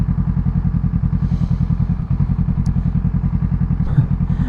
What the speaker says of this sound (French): La moto elle a des coups de ralenti chelous